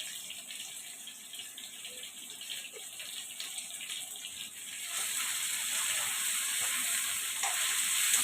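Bata fish fries in a pan while rice cooks alongside, giving a soft, steady sizzle that grows noticeably louder and hissier halfway through, with no talking.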